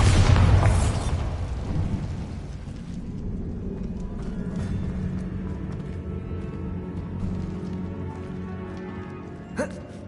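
A Bombarda blasting spell in Hogwarts Legacy, heard as one loud, close explosion at the start that trails into a long rumbling, crackling decay of debris, with a small clack near the end.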